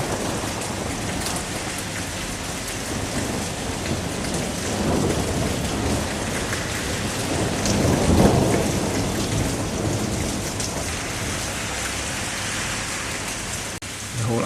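A thunderstorm over Oxford in May 2007 brings heavy steady rain hissing on surfaces throughout, with rolling thunder swelling into a louder rumble partway through before easing back under the downpour.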